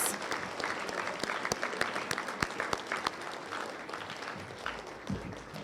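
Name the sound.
audience applause for parents and family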